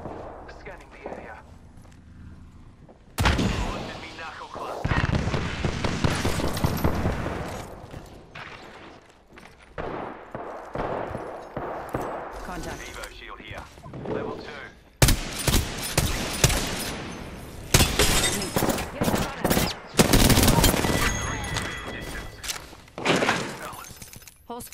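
Rapid bursts of gunfire from an Apex Legends match crackle loudly in dense volleys, with sharp shattering hits and breaks between bursts, a voice speaking through parts of it.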